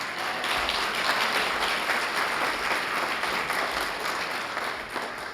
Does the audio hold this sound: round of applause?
yes